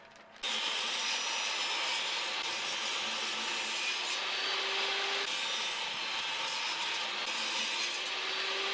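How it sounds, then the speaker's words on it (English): A power saw rips wooden boards into 2x2 strips, a loud, steady whining cut that starts abruptly and runs continuously nearby, with no talking. "now we're going to rip these down into 2x2s."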